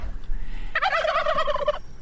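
A turkey gobbles loudly and close, one rapid warbling burst of about a second rising over quiet background, with no talk.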